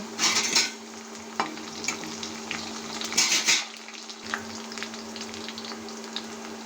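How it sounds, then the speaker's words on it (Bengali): Green chillies join onions frying in a wok, giving a steady close sizzle with bursts of louder crackling and spatula scrapes and clinks as the pan is stirred. "এখন আমি কাঁচামরিচগুলো দিয়ে দিচ্ছি"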